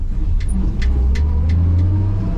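Engine of a 1966 Chevrolet C10 pickup revving hard under too much throttle, a steady loud low rumble with a few brief sharp clicks on top, close and with no talking.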